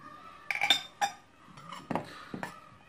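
Ingredients for a garlic and honey oil are set into a small bowl in a kitchen, giving a few sharp clinks and taps of utensil against dish, spaced irregularly and moderately close, with no talking.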